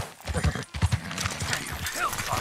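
Horse hooves clip-clopping in the video game Red Dead Redemption 2, a steady close trot with a voice talking over it.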